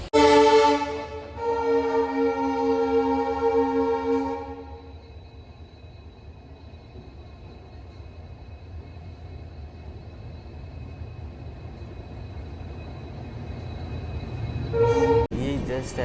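The Golgumbaz Express passenger train from Pandharpur to Mysore blares its horn loudly in long tones, and then a steady, quieter rumble of running carriages follows. A second short horn blast comes near the end.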